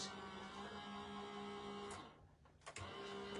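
A die-cutting machine runs a cutting plate through, used for card-making, giving a steady mechanical motor whir with a low hum that stops briefly and then resumes, close and moderately loud with no talking.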